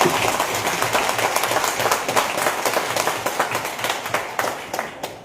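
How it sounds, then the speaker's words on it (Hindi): Loud, sustained applause from a seated audience at a political speech on old-age pensions, dense clapping continuing steadily throughout with no talk over it. "एक बार मात शक्ति उंगली जोरदार ताली लगा दीजिए, बहुत जोरदार"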